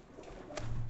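Madrasi pigeon cooing close by, a short soft low coo rising toward the end of a brief moment.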